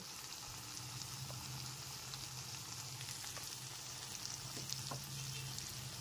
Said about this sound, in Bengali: ফ্রেশ ক্রিমটাও খুব ভালো মতো একবার মিশিয়ে নিতে হবে